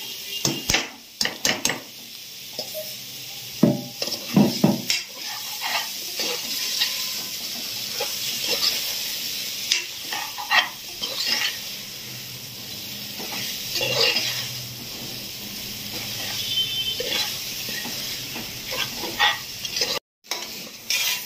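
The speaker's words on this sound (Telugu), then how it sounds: "ఉల్లి ముద్ద, ఉల్లిపాయలు అన్నీ కలిపి వేగాయి కదండి" Onion paste and chopped onions fry for a mutton lung curry, a continuous sizzle broken by repeated scraping stirs and clinks of a metal spoon against the pan, close and mostly free of talk.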